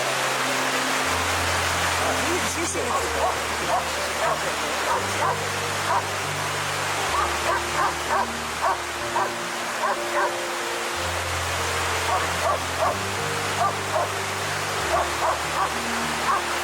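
A trained Royal Gendarmerie search dog barks and yips repeatedly outdoors, sharp bursts recurring at a steady pace over a low droning background hum.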